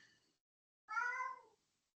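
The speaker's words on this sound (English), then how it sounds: "Was that your cat?" A domestic cat lets out one clear, drawn-out meow in the middle, faint and set apart in a quiet room, with a brief soft trailing sound from a previous call at the very start.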